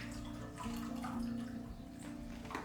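Filtered drinking water from a camping filter pours into a cup in a steady stream, lasting under three seconds with no voice over it.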